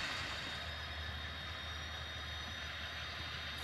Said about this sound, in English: This Conrail GP38-2 is one of my favorite locomotives to run.